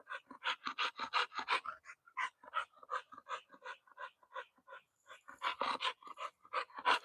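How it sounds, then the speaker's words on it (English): A dog pants in quick, repeated breaths, in rhythmic bursts with a short pause partway through, close to the microphone and fairly quiet. "Look at this dog."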